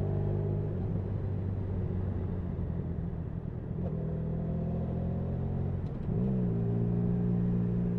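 A Honda VFR1200F shaft-drive motorcycle being ridden: a continuous low engine drone that steps up in pitch through several gear changes and throttle shifts, heard close, with no voices.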